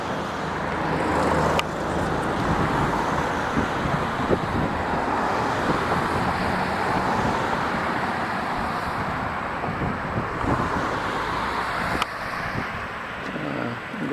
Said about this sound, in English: you can hear the traffic in the back